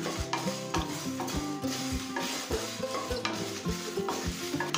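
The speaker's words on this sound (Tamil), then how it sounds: "இப்போ இது எல்லாத்தையும் நல்ல வாசனை வர வரைக்கும் வறுத்துக்கலாம்" Cinnamon, clove, cardamom and fennel seeds dry-roasting in a pan on low heat, with a steady sizzle and repeated rhythmic scrapes of a spoon stirring throughout, close and fairly loud, no talking.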